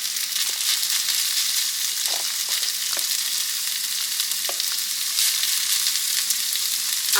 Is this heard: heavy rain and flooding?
no